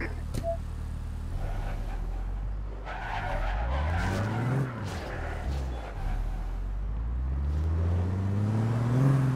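A car in the video game APB Reloaded drives hard with a rising and falling engine, tires squealing and skidding through turns, while players talk over it.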